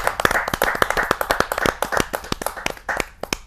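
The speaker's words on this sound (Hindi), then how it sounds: "जरा जोरदार ताली के साथ हम उनका स्वागत करें।" An audience at a Hindi kavi sammelan welcomes a young poet with sharp, distinct hand claps in a quick, fairly regular rhythm that continues steadily and close for a few seconds.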